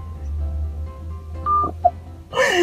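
Phone number being dialed on a telephone: a few short keypad tones over a low hum, followed by a louder burst of sound at the end.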